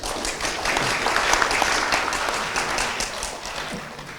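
A symposium audience applauds its panelists with sustained, dense clapping that swells slightly and then tapers gently, heard alone without talk.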